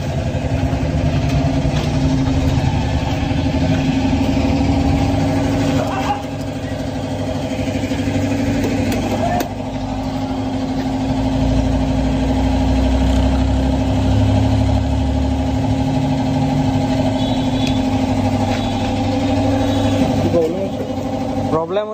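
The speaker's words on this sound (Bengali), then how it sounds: "পুরো গাড়িতে ঝনঝন টাইপের আওয়াজ হচ্ছে" TVS Ntorq Race XP scooter engine idling with a loose, jangling rattle throughout the whole vehicle, a steady close drone with people talking over it.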